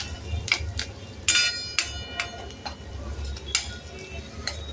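Onions browning in oil in a pan, a low sizzle punctuated by repeated sharp scrapes and clinks of a spoon stirring against the metal, close and alone.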